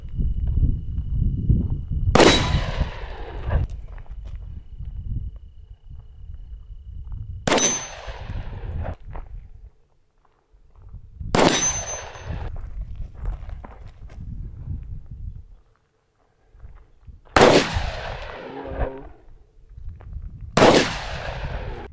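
A Glock 45 MOS pistol fires five 9mm rounds at steel targets: single loud, sharp cracks with ringing metallic echo, spaced several seconds apart, with shuffling footsteps between shots.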